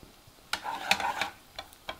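Shallots cook in a pan with rendered bacon and are stirred now and then. A steady, gentle sizzle runs underneath, broken by a few sharp scrapes and clatters up close.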